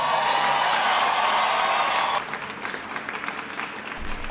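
A studio audience applauds guest Seth Rogen as he is introduced on a podcast, dense clapping at full strength for about two seconds before thinning to scattered claps that carry on more quietly.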